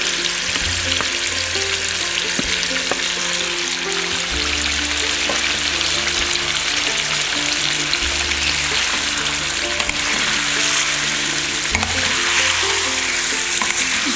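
Masalas for mutton biryani fry on high flame in a pan, a loud, steady sizzle running throughout with occasional stirring scrapes and no voices.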